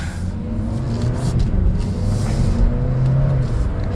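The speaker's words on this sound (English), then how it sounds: "And we'll give it another quick acceleration." A 2022 Audi A3 40 Premium sedan accelerates hard, its engine rumble swelling and holding strong across a few seconds, heard from inside the car with road noise underneath.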